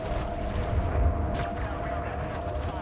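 Heavy railgun shots in a space combat video game, a rapid run of loud booming impacts with bright bursts, over a steady background hum.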